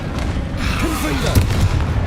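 A magical blasting-curse explosion in a fantasy video game, a loud deep boom under a dense roar of in-game effects, with a thumping impact about halfway through and a voice briefly audible in the mix.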